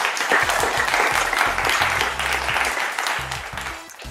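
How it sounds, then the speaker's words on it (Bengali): An audience at a Saraswati Puja event claps loudly and steadily for a few seconds, the applause tapering slightly at the end. "দে পরিবারের জন্য একটা জোরে হাততালি দিয়ে দিই আমরা।"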